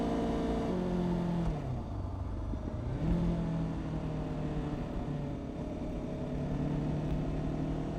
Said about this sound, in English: Oh, that was a proper fucking downshift.